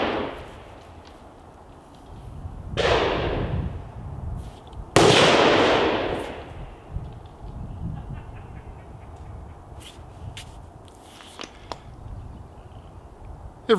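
Gunfire on a live shooting range: two loud reports with long echoing tails, followed by scattered sharper cracks that sound farther off over a low background rumble.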